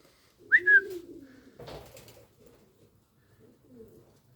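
Pigeons in a garden give a soft, close coo near the start, followed by a rustle and a few quieter throaty murmurs. Short, low calls are spread across a mostly quiet background.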